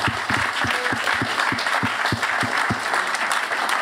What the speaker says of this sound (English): round of applause to everyone in here as well